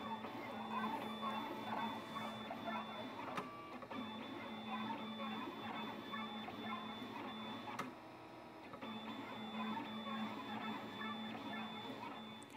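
Electronic craft cutter slicing paper flowers, a continuous busy mechanical whirring with a steady motor hum and rapid clicking, broken by a brief sharp change in pitch partway through as the cutting head shifts direction.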